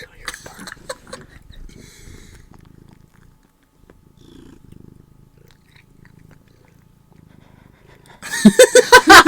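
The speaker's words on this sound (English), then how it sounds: "She's purring." A pet cat purring softly and close by, a low steady rumble under quiet breathing, followed by a loud burst of people talking.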